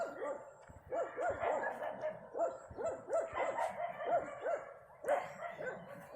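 A dog barks repeatedly at a distance in rural farmland in Maglinte, Zamboanguita, Negros Oriental, a steady run of sharp woofs carrying over faint background noise.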